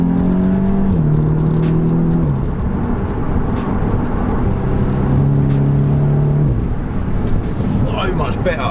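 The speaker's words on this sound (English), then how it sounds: "I can finally drive this S3 and enjoy it." Audi S3 driving along after its differential was serviced and a whining noise fixed, steady engine hum with gear changes in rising and falling tones, continuous and fairly loud, with faint talk over it.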